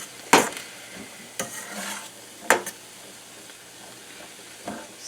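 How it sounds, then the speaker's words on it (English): Onions softening in a pan for a celebration loaf, with a few sharp stirring scrapes over a low, steady sizzle, close and fairly quiet between the strokes. "This has been cooking about 5 minutes now, and you can see it's onions are starting to soften"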